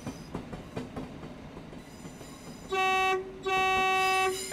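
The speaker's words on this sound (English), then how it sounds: "Can you even call that a horn on a train?" Train horn in the Train Simulator Classic video game: a loud, steady two-part blast sounded twice in the second half, following quieter rolling and clattering rail noise.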